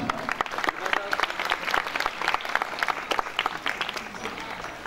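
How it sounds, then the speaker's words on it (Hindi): An audience claps for helpers after a staged Passion of Christ drama, a lively crackle of many hands with sharp individual claps standing out, moderately loud and continuous. "तो उनके लिए भी भरपूर तालियां जी।"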